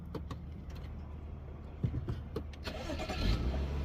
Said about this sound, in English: last step is gonna turn on the car